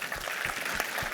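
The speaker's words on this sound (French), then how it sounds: "on peut vous applaudir" An audience at a university anniversary talk on data science applauds, a steady wash of many hands clapping, moderately loud and sustained through the brief moment without speech.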